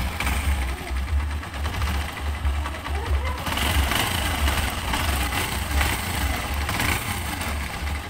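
A TMX Alpha 125 motorcycle engine idles steadily after being cranked on a weak battery, a close, continuous low putter with a regular pulsing rhythm that runs throughout without pause.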